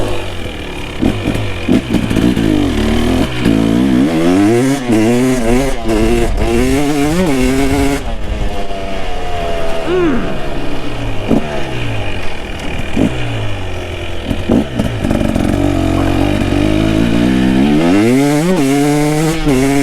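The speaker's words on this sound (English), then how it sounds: "Oh my gosh, this thing is so fast." A 2023 KTM 300SX two-stroke dirt bike revs loud and close, its engine rising and falling through repeated sweeping throttle blips and accelerations with a buzzy, raspy tone.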